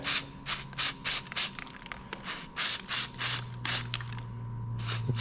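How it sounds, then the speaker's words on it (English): Repeated short hissing bursts of aerosol cleaner sprayed onto a diesel engine's MAP sensor, about a dozen quick sprays in uneven rhythm, close by, with a low mechanical hum underneath. "we're going to spray this through there and get it cleaned off"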